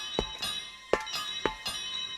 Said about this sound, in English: He had heard the banging and Toby's bell ringing.